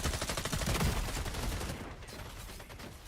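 Rapid SMG gunfire from a Rainbow Six Siege X match, a dense fast burst of shots running loud and continuous through the whole moment, easing slightly toward the end.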